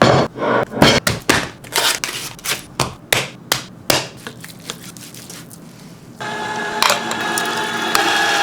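A meat grinder working through meat, giving a close, loud series of rhythmic cranking clunks and rattles that settle into a continuous grinding whir.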